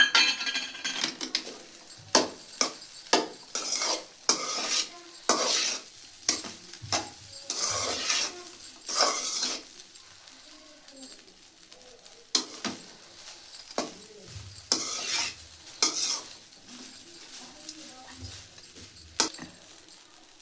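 Jeera rice seasoned with pepper powder is stirred in a pan, giving a steady run of close scraping and clinking spoon strokes against the metal, with no talk.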